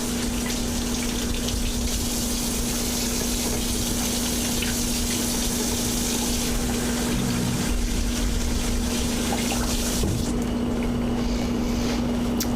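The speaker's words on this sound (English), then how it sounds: "I'm gonna go wash my hands." Tap water runs steadily into a kitchen sink as hands are washed, a continuous near gush with a faint pump-like hum underneath, easing briefly near the end.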